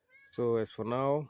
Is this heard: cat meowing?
yes